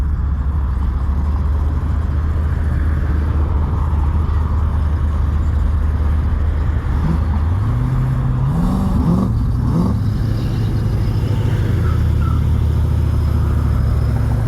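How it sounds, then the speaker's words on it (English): A supercharged car engine at a DFW car meet idles with a heavy low rumble, then revs up in a few quick rising pulls before settling back, loud and close. "I heard a supercharger."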